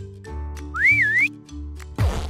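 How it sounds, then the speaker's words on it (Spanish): A whistle in a stop-motion cartoon gives one clear, wavering high tone over background music and is followed by a burst of noise. "Milagrosamente, Boss Baby puede controlarlo con solo un silbato."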